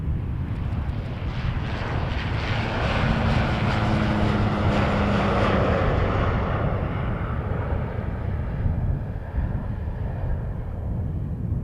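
A jet airliner at Montréal-Trudeau Airport roars with a loud, broad engine rumble that swells and then fades as it passes.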